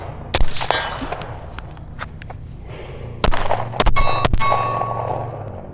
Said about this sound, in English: I'll shoot this dry and immediately transition to a pistol and run a couple of those.